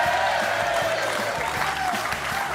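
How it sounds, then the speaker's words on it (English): Studio audience applause for guests arriving on a comedy talk show, a dense steady clatter of clapping with low music or murmur beneath, sustained through the clip without a break. "keep the applause going"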